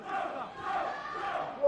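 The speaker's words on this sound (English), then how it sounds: "You hear some chanting in the background." A Japanese crowd chants in a gymnasium during an early UFC fight, a soft, distant rhythmic swell of many voices under a muffled arena ambience, brief and fairly quiet.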